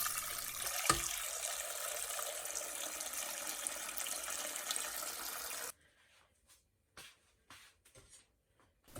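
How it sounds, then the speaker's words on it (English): Cold water runs from a tap over potatoes in a sink, a steady close wash of splashing flow that stops abruptly, leaving a few faint drips and clatters. "Wash the potatoes by running it under cold water."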